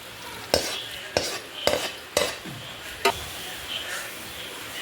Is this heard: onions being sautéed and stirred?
yes